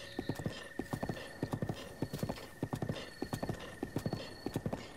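Horse hooves gallop across the ground in The Legend of Zelda: Breath of the Wild, sounding as a steady run of rapid clip-clop beats in repeating groups, fairly close, with a faint tonal hum beneath.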